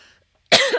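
One sharp, close cough breaks a near silence, a single harsh burst with a quick rasping tail.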